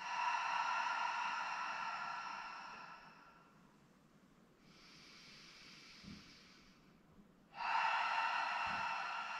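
Slow, deep breathing close by: a long hissing exhalation fades out, a softer inhalation follows after a pause, then another strong breath swells loudly at the end.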